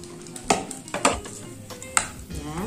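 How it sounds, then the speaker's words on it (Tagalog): Spoon working through cooked rice and kimbap ingredients in a bowl: a few scraping clinks against the bowl over a steady soft background, near, with no voices. "tayo naman ay paghalo-halo na lang po natin yung mga ingredients"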